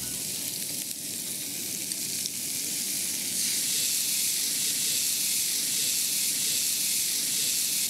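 Potatoes with chopped onion and tomato sizzle in a pan, a dense, steady hiss of frying that holds loud and unbroken close by, with faint stirring under it.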